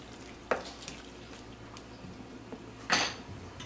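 Cooked beans being added to a pot and stirred in while making frijoles charros, two distinct clanks of a utensil against the pot and soft wet squishing between them.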